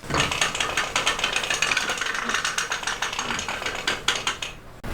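King Quilter II quilting frame advancing the quilt, a rapid rhythmic ratcheting clatter of gears and pawls, close and steady for several seconds before stopping, no voices.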